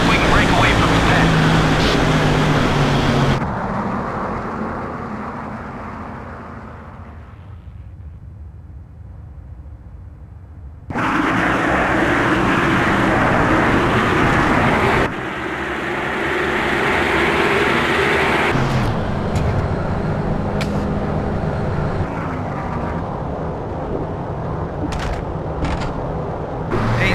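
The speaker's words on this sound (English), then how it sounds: "Green flag is in the air on this restart, as the field races its way down towards turn number one." Stock cars roar around the track in the PlayStation 2 racing game NASCAR Thunder 2004. The loud, continuous engine noise breaks off abruptly, drops to a quieter lull and then surges back.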